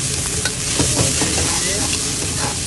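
Eggs fry in oil in a pan with a loud, dense, continuous sizzle and crackle, close and steady throughout with stirring sounds mixed in.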